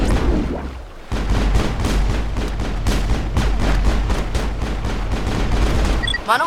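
Heavy crossfire in the sci-fi shooter Mass Effect: dense, rapid bursts of gunshots with booming impacts. The bursts keep firing from close by after a brief lull at the start, loud and with no voices.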